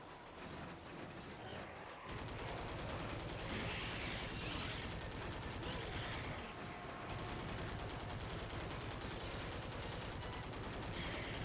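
Rapid, dense gunfire from the video game Darkwatch rattles continuously at close range, loud and mechanical, with a brief dip around the middle and no talking.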